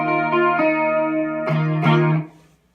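Strummed electric guitar chords swirl with a moderate chorus effect, a few strokes sustaining and wavering before fading into silence.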